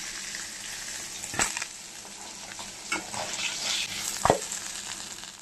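More bata fish fry in mustard oil, a continuous close crackle and hiss with several sharp scraping stirs breaking through.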